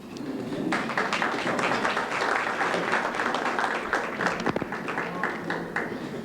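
An audience at a 2001 Hawthorne revenue producers lunch applauds the mayor in a dense, sustained round of clapping that holds steady in a large room, with faint voices underneath.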